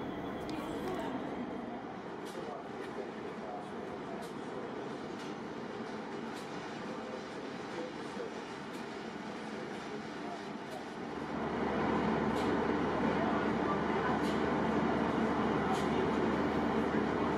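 The long Indian Pacific passenger train stands at a Sydney station platform, its steady low rumble and hum filling the air, growing louder partway through, with voices murmuring in the background.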